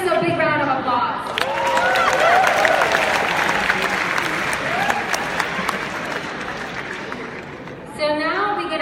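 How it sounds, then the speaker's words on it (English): An audience at a youth assembly closing ceremony in New York breaks into loud, sustained applause, with voices speaking over it at the start and end. "Give us a big round of applause."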